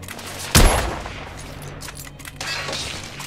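Gunfire in the video game The Order 1886, a sharp loud shot followed by a rumbling echo and a short burst of further shots.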